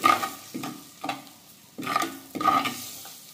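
A spoon stirs a Malvani masala for mutton curry, with turmeric added, in a hot pan. Repeated close scraping strokes come in an uneven rhythm over a soft sizzle.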